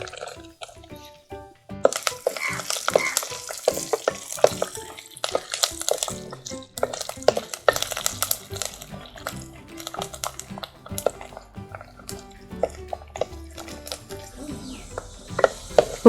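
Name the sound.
garlic frying in oil for kara kuzhambu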